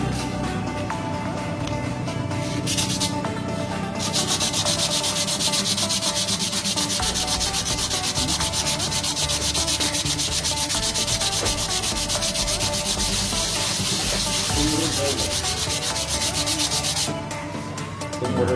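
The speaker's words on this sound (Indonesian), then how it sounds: "Kita amplas yang satu." Steady, loud abrasive rubbing of sandpaper against a metal brake disc, continuous for the whole stretch with brief dips, close up and without voices.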